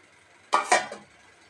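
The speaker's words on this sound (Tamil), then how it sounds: "இப்போ எண்ணெயில் பொரிச்ச உருளைக்கிழங்கையும் ஆட் பண்ணிக்கலாம்" Fried potatoes drop into thick pea-and-potato kurma gravy in a pan, giving two quick close clattering impacts with a brief wet rattle, then quiet.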